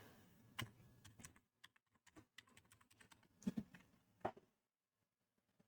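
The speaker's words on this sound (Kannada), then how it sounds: "ಅದನ್ನು ಮತ್ತೆ ಇಲ್ಲಿ ಟೈಪ್ ಮಾಡಿ." Typing on a computer keyboard, heard as close, quiet, irregular key clicks with short pauses between bursts, alone in a still room.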